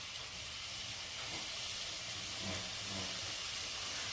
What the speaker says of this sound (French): on est en train de le mettre dans de l'huile chaude